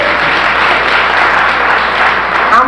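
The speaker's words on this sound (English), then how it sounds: "clap your hands if you believe that" A lecture audience claps together in a show-of-hands style vote, a loud dense burst of applause filling the room and holding steady to the end.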